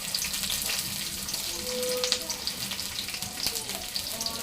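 Onion and green chilies sizzle in hot oil in a wok, a steady close crackling fry with light stirring clicks and no talk.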